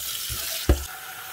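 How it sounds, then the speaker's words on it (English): Tap water splashes into a cooking pot for vegetarian pasta, a short gush with a brief louder surge near the middle, close and alone without speech. "Need to get enough water in there, like that."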